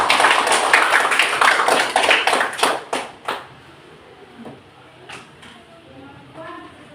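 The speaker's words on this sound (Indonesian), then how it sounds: "berikan tepuk tangan dulu untuk semua kelompok" A classroom group breaks into brisk hand clapping for about three seconds, the sharp claps thinning out and stopping before voices talk over a quiet room.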